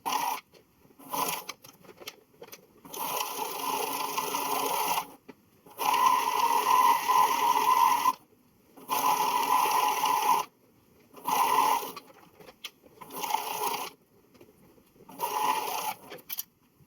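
A sewing machine stitching Star Wars jacket pieces, running in a series of close, loud bursts of several seconds each, separated by brief silent stops.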